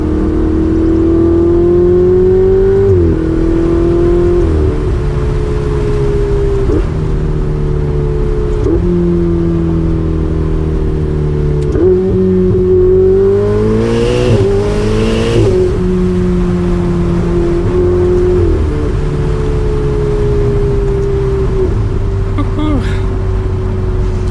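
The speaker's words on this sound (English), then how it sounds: "You can row through the downshifts just like that. The moment I hit that paddle, we are into that next gear." A Ferrari 488 Spider's high-revving engine holds a steady roar, its pitch dropping abruptly with each quick paddle-shifted gear change, loud and close throughout.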